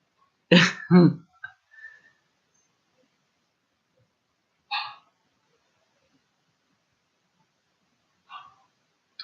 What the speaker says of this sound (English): I hear a puppy dog